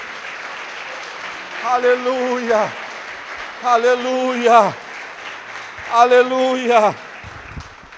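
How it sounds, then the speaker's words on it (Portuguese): A church congregation at an evening celebration service claps continuously in the background, with three loud sung or shouted exclamations from a voice rising over the applause. "aplauda o Senhor nesta noite"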